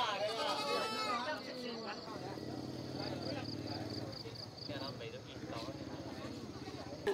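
Goats bleat at a highland market in the mountains of northwest Vietnam. Several wavering cries come close by at the start, then fainter calls follow while people talk and market noise carries on around them.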